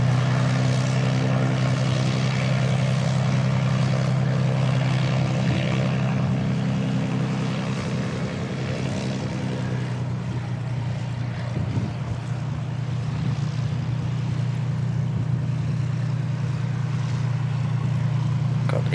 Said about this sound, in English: Interested to see this one take off and what it sounds like at full noise.